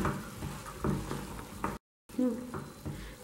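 Chopped tomato is stirred into black chickpeas (kala chana) in a pan, giving soft, uneven frying sizzle and scraping stirs broken by a brief dropout of silence.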